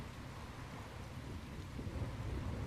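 A faint, steady thunderstorm at sea in the video game Tales of Berseria, with rain hiss and low rolling rumble building slightly toward the end, heard alone.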